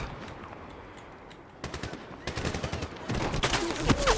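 Rapid gunfire from the Medal of Honor 2010 video game, starting faint and growing into dense, loud bursts of automatic shots that crowd the last few seconds.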